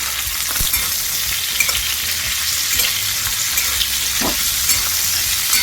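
Capsicum fries in a pan for navaratna korma, a loud steady sizzle with scraping stirring strokes and occasional clinks from the utensil.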